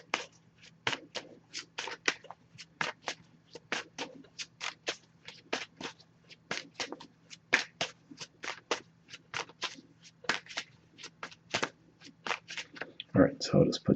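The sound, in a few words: shuffling an Oracle card deck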